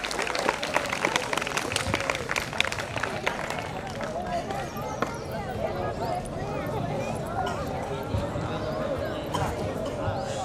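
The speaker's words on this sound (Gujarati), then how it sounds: "આપણે સૌ તાળીઓના ગડગડાટથી હિનાને વધાવીશું" At a school Republic Day event, an audience applauds a girl student honoured for a sports win; brisk crowd clapping fills the first half, then fades as a voice talks over the gathering.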